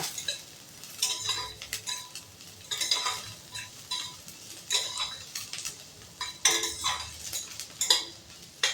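Onion fries in a pan with a low sizzle as a utensil clinks and scrapes against the metal in quick, uneven bursts of stirring, close and moderately loud, with no talking.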